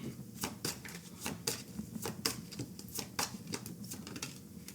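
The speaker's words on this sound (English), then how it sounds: "Let's pull from the Hard Truth deck here. I'll pull 2 cards for you guys." Cards are pulled from a Hard Truth card deck, producing rapid, crisp flicking and shuffling snaps in an irregular close rhythm, soft but distinct, with no talk.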